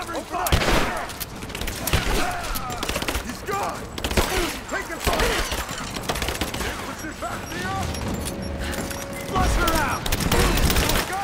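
Gunfire in the video game Rise of the Tomb Raider: dense, continuous rattling bursts of shots and booms fill the scene, with voices calling out over the battle.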